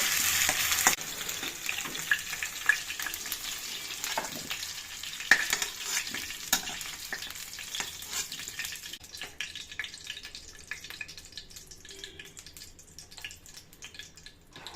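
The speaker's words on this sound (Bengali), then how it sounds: "আলুগুলো একদম লাল লাল করে ভাজা হয়ে গেছে" Potato pieces fry in a pan, a steady crackling sizzle with scattered pops and a few sharp utensil clicks; the sizzle softens and thins toward the end, with no talking over it.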